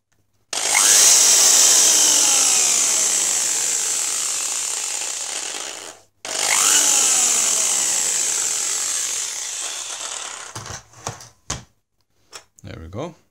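A small power drill with a 1.2 millimeter bit bores into a plastic Lego pneumatic cylinder, whirring in two long high-pitched runs, slowing gradually each time, followed by a few short bursts.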